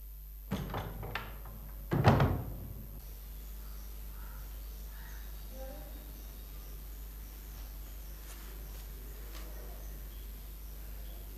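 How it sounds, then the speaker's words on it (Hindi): A door is pushed shut with a few quick wooden knocks followed by a louder closing thud, then a long stretch of quiet room tone with faint distant sounds. "दरवाजा बंद कर दो"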